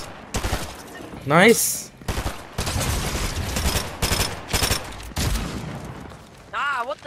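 Burst SMG fire in the Fortnite video game, heard as repeated clusters of sharp shots in quick bursts with short gaps between them. A player's voice speaks briefly over the gunfire.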